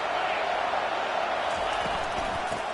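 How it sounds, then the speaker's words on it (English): Steady, dense stadium crowd roar from the College Football 25 video game, a continuous broadband wash of cheering at an even level throughout, with faint low thumps underneath. "This crowd bringing the energy and noise early."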